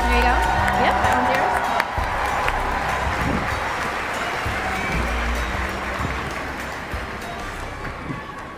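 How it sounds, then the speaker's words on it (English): Sustained applause from a crowd at MINECON 2016, a dense wash of clapping with scattered cheers, steady and loud throughout. "How about one more round of applause?"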